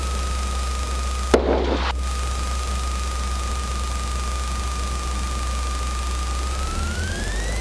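A light aircraft engine drones at full throttle, over 2100 RPM, on the takeoff roll, heard from inside the cockpit as a constant loud hum with a steady tone that rises near the end, broken by one brief burst of noise.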